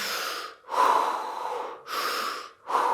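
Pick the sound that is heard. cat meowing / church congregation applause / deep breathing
deep breathing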